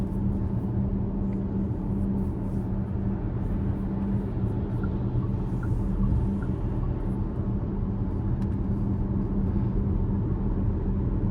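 Zeekr 7X electric SUV towing a boat trailer on the road: a steady, loud low rumble of tyres and wind noise with a constant drone, continuous with no talking.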